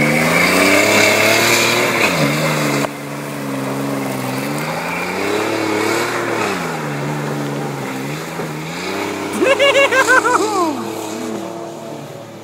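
A truck engine revs hard while mudding in two-wheel drive, loud and near, its pitch rising and falling in repeated surges, then a sharp high whine from spinning tires near the end.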